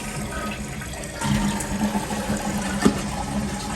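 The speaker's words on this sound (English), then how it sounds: "Now I'm gonna flush it and you'll see it's simply fixed." A repaired toilet whose water kept running is flushed, giving a steady rush of water that surges and then keeps pouring as the tank refills, close and fairly loud.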